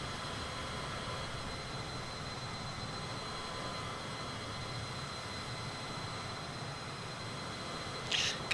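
A small Cessna airplane cruises at sunset in a flight simulator game, its engine a steady, even drone that fills the whole stretch without change, with a brief louder rustle at the very end.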